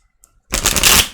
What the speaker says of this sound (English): I'm going to give these another shuffle here.